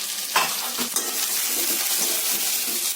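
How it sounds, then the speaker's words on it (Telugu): Onions and lentils frying in a pan for a tamarind curry, a steady bright sizzle with occasional stirring scrapes and clinks, close and continuous without talk. "ఇప్పుడు ఉల్లిపాయలు వేగాయి దాంట్లోనే పప్పులు కూడా వేస్తాము"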